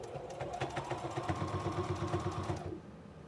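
A sewing machine runs a quick burst of small stitches with a fast, even mechanical clatter, then stops abruptly.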